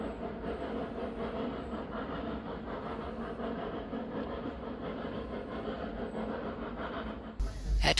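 A Snowdon Mountain Railway train climbs uphill with a steady rumbling drone and faint rail clatter from on board, moderately quiet, ending with a brief louder thump.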